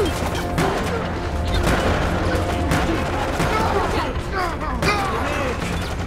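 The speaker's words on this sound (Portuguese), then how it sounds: "Tô levando uns tiros aqui que não vai ser bom se eu continuar." Rapid bursts of gunfire and crashing impacts fill a combat scene in the video game Resident Evil: Operation Raccoon City, dense and continuous with game effects layered throughout.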